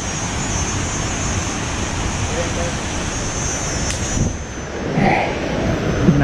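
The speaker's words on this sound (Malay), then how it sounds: "Deruman bunyi air terjun." The Gareg waterfall roars as a loud, dense, unbroken rush close by, with a faint voice briefly rising under it near the end.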